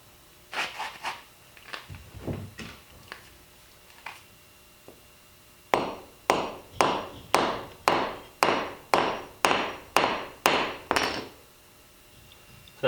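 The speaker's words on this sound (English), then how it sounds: "And then you'll hammer it in place" Sharp hammer blows drive a trap cable stake into the ground, a few scattered taps first, then a steady run of about ten evenly spaced, loud hits.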